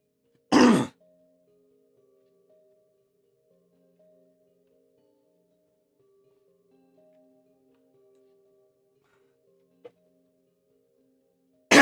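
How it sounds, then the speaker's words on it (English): One loud, harsh throat clearing or cough bursts out close up near the start, followed by near silence with a faint tone, a small tick later and another brief sound cut off at the end. "I love trying to cough stuff out of my lungs."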